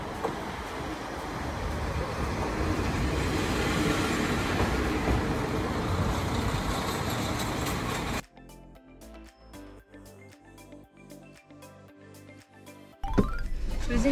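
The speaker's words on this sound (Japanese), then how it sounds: "無事に電車が来るのも見れたから" A train arrives at a seaside spot in Shikoku with a loud, broad rumbling roar for several seconds. The roar then drops away to quieter, irregular clattering and knocks before a final burst of noise.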